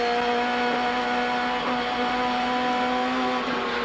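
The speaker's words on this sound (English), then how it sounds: "You can hear the Commodore to his right-hand side." 1990 Australian Touring Car Championship Holden Commodore racing alongside other touring cars, a loud, steady, high-revving engine drone with whining harmonics holding throughout.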